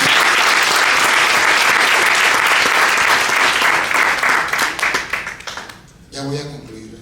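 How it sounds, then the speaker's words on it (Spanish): A large church congregation applauds loudly and continuously, the clapping fading out near the end as a voice begins speaking. "¿Cuánto le dan palmas a Jesús?"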